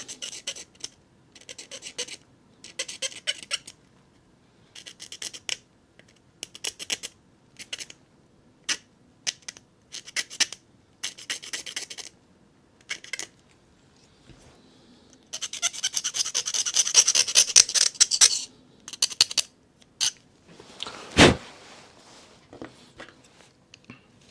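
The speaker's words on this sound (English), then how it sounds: "Scrape a bit off them edges." A blade scrapes the edges of a part for a 1:8 scale S.A.S. Willys Jeep model kit, making short, repeated close-up rasping strokes in bursts, then a denser stretch of continuous scraping and one sharp louder scrape.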